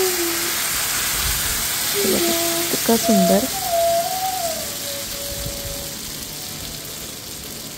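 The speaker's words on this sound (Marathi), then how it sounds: "तवा तापलेला आहे. आता घावणा घालते मी." Ghavan rice batter sizzles on a hot griddle with a steady, close frying hiss, while someone speaks briefly over it.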